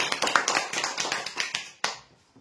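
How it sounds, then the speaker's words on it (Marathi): At a prize draw, a small group gives a quick, close burst of rapid sharp claps that stops abruptly after about two seconds. "जोरदार टाळ्या."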